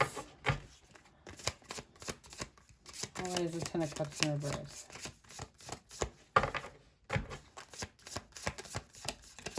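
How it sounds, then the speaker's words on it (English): Rapid riffling and snapping of a tarot deck being shuffled in repeated bursts, close up, while a person speaks briefly between the shuffles. "Oh my god, I'm shuffling the wrong deck."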